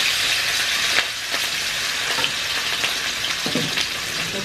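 Salmon frying in hot oil in a pan, a steady close sizzle with occasional sharper pops and crackles throughout, no talking.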